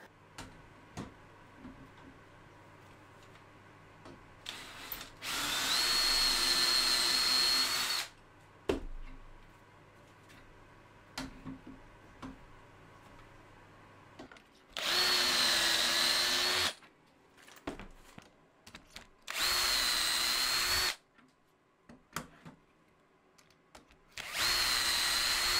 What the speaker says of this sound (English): I'm going to use that to drill the holes into these crossover bits.